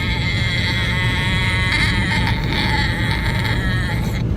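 A person hums with closed lips to imitate a bee's buzz, as in bhramari bee breathing: one steady, sustained nasal drone held for several seconds over a constant background hiss.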